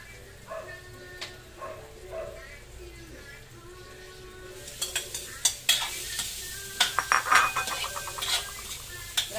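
Tofu goes into a hot pan with white onion for sisig tofu; after a quiet start, sizzling swells and a burst of quick scraping stirs and utensil clicks follows, close and lively.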